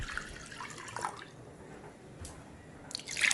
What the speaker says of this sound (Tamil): நான் இன்றைக்கி 2 கப் தண்ணி சேர்த்துக்க போகிறேன்.